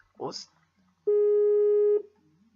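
A single long steady electronic ringback tone of an outgoing phone call, loud and clean for about a second, with a short spoken exclamation just before it.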